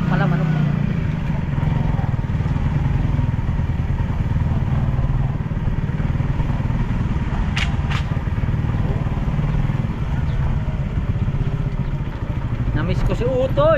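A motorcycle engine hums steadily and loudly up close throughout a ride to the market, with a few short clicks and rattles over the drone.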